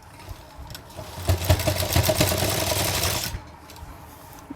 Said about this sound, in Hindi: सिलाई को शुरू करेंगे